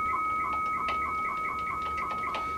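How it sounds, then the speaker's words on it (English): Rapid, regular electronic modem chirps alternate between two pitches in a steady warbling pattern as typed data is sent, with occasional brief bursts of noisy static mixed in. "when I type, you're going to hear a chirping sound"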